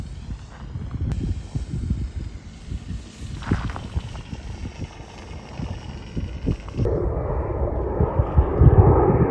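A small radio-controlled gyrocopter with shimmed rotor blades flies past, its steady motor and rotor drone continuous at moderate distance, rising to a louder, rougher rush near the end.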